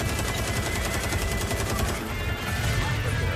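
Sustained automatic gunfire in a shooter video game, loud and continuous, with rapid overlapping shots that fill the whole stretch and no speech.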